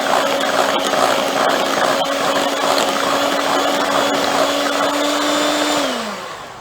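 Banana bread batter made with Bisquick is mixed with an electric mixer, giving a steady, loud motor whir close by that holds constant before winding down at the end.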